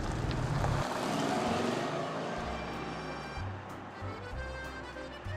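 A 2016 Mercedes-Benz AMG GLE 63 S Coupe cruises along a road in Bavaria. The engine drone is steady, a low hum of tyres and wind fills the cabin, and the pitch shifts slightly as it changes gear.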